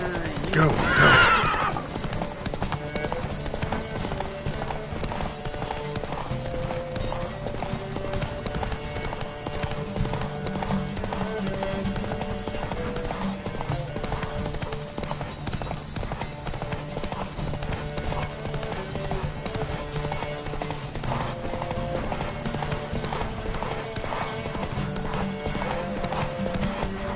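Horses gallop in a race in the Witcher 3 video game, with rapid continuous hoofbeats and a loud neigh near the start, under game music and voices.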